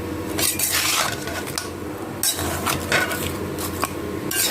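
Duck pieces are worked by hand with spices, chui jhal and mustard oil in a metal bowl, giving a steady close squelching, rubbing and clattering that continues throughout.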